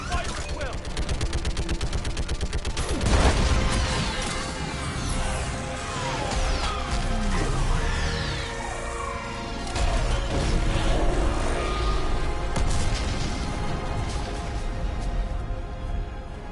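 An orbital strike slams into a live Reaper in Mass Effect 3, a heavy booming impact rising out of dense ongoing battle noise and gunfire, with voices talking over the din.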